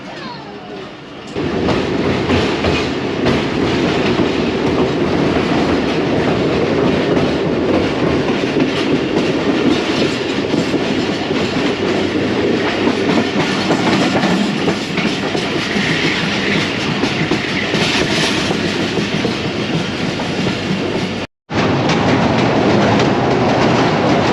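Pakistan Railway Tezgam passenger train running between Wazirabad Junction and Rawalpindi, heard from on board as a steady loud rumble with rhythmic wheel clatter over rail joints, continuing throughout with one brief dropout.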